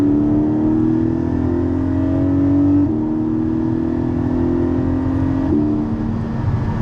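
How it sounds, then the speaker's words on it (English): A Porsche GT4 with a Milltek catback exhaust drones loudly as it accelerates, the note climbing then dropping at two gear changes, with no one talking. "the Miltek catback exhaust sounds so much better than the original OEM."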